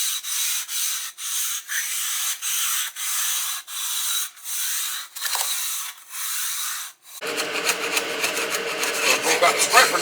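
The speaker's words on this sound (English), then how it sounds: "we're going to go down and scrape some more oil on the griddle" A scraper drags across an oily food trailer griddle in a steady series of rasping strokes, then gives way to faster, denser scrubbing near the end.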